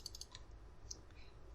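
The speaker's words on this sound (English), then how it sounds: "I'm holding shift and clicking on the thing." Computer mouse clicks made while holding the shift key during 3D modelling in Maya 2016, a few faint, sharp clicks spaced apart with no talk.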